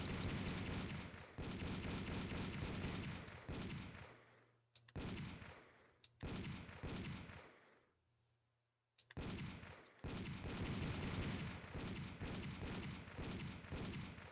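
Test gunfire in a video game: loud, close automatic bursts in several long runs, broken by sharp single shots and a near-silent gap before firing resumes heavily.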